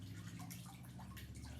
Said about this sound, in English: Let the water drip off